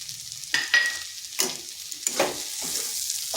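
Poppy seeds go into spring onions frying in a pan, followed by a close sizzle and several scraping stirs with a spatula, with short bursts of louder frying between quieter stretches.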